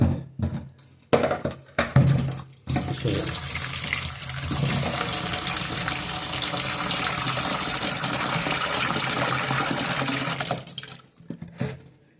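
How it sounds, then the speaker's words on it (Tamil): Water is poured steadily in a kitchen for cooking boiled cassava, a continuous close gushing pour that runs for several seconds after a few short splashes and knocks. "இப்போ என்ன பண்ணிங்கன்னா தண்ணி ஊற்றி வைக்க போகிறாங்க"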